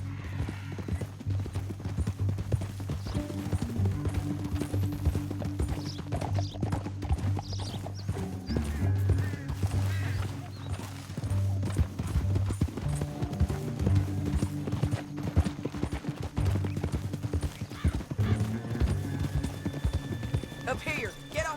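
Horses' hooves clip-clop steadily through a Red Dead Redemption II scene, several animals walking together with an occasional whinny, while characters talk over the continuous rhythmic hoofbeats.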